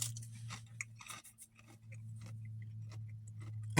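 Crunchy chewing of a tortilla chip topped with hamburger nacho mix, a string of close, crisp bites over a steady low hum, with no talking.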